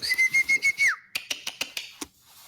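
A person whistles a string of short, sharp bursts followed by a held rising note, then a looser run of quick chirping whistles, calling a companion while boarding a boat in a fantasy tabletop game session, loud and close with no talking over it.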